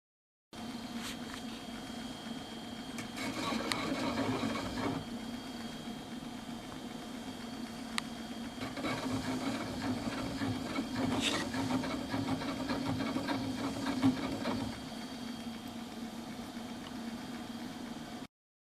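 A faceting machine hums steadily as it polishes the table facet of a gem on a lap, a low, even motor drone with faint gritty rubbing and occasional small clicks, alone without speech.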